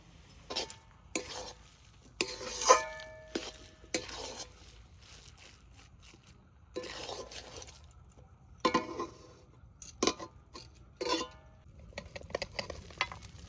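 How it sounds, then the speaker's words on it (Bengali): Cabbage filling for Bengali puli pitha, thickened with a little rice flour, stirred with fried peas in a pan: repeated scraping strokes and soft sizzling, close and fairly quiet, with occasional light clinks and no voices. "এবার ভেজে রাখা মটরশুঁটি দিয়ে নাড়াচা দিয়ে নামাই নেব।"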